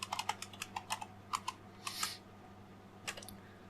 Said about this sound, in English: I got to type it again.